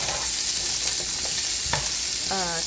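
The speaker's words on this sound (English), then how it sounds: "I'm going to stir it all up" Onions and garlic sizzle in a frying pan while a utensil stirs through them, giving a steady hiss broken by a few scraping clicks and a short squeak near the end.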